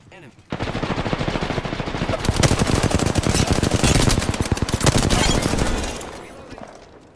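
Rapid sustained bursts of Spitfire machine gun fire in Apex Legends, loud and close, a dense rattling barrage lasting several seconds before tapering off.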